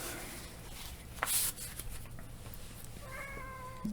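A cat meows once, short and fairly close, followed a moment later by a higher, drawn-out mew, over a faint steady background hum.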